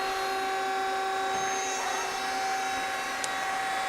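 A Hyundai HIT-15 CNC turning lathe runs its automatic cycle, a steady mechanical hum with whining tonal drones and one brief sharp tick near the end, heard alone at moderate level.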